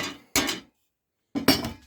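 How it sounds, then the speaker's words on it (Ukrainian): Two sharp metallic strikes of a blacksmith's hammer on work resting on a wooden stump while making a photo frame by hand, each a bright ringing clank about a second apart, close and clear with silence between. "Зараз буду там на пеньку ковальським секретним молотком."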